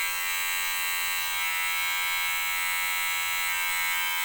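Kemei KM-2600 electric hair clipper running loudly, a steady high-pitched buzzing motor drone that holds constant throughout with no talking.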